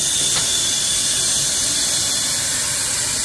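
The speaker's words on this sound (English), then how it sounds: "I'll run the blower just to show you how that works." Blower on a 20-inch off-grid steam engine boiler running, a loud, steady high-pitched hiss and whine of rushing air, constant throughout.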